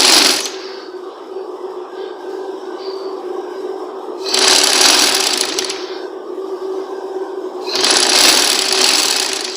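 Electric sewing machine stitching folded paper piping for a neck design, running in a steady motor whir with two louder, bright bursts of faster stitching, alone without talk.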